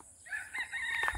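A rooster crows once in a foggy village at dawn, a fairly soft, somewhat distant call rising and holding for about a second over quiet morning air.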